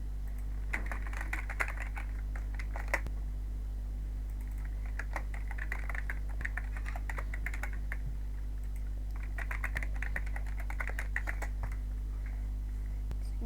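Computer keyboard typed on while recovering a stolen Roblox account: quick light key clicks in several short bursts with brief pauses, close but soft over a steady low electrical hum, no talk.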